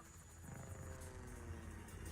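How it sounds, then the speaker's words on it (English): A helicopter in the Persona 4 Arena Ultimax fighting game drones steadily with a low rotor throb, loud and constant throughout as it flies away, with no talk over it. "That's a fast fucking helicopter."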